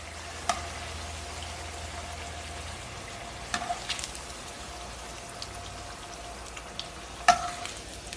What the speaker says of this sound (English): And just keep frying them until you fry up all of the tempeh.